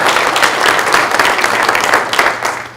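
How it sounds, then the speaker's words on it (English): Sustained applause from a morning business audience at a Washington County Chamber of Commerce legislative forum, thanking the event sponsors, a dense wash of clapping that holds steady and tapers off near the end. "let's give them a round of applause"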